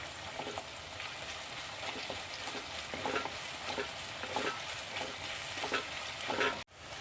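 Curry leaves hit hot oil in a pan with small shallots, garlic and ginger for a Kerala sardine and taro curry, giving a steady close sizzle and crackle with light stirring throughout, cut off briefly near the end.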